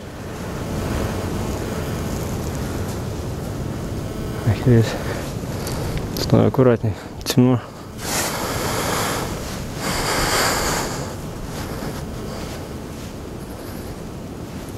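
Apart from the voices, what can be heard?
strong wind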